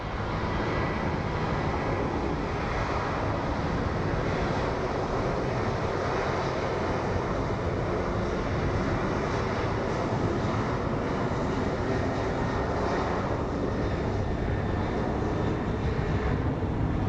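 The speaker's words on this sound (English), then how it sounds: "We have an American Airlines 737." An American Airlines Boeing 737 departing Phoenix Sky Harbor International Airport, its jet engines producing a loud, sustained broadband roar that stays steady and near throughout.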